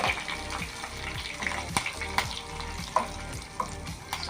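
Curry leaves hit hot oil for a tempering, crackling and sizzling in short bursts with sharp pops over a steady frying hiss, close up and without talk.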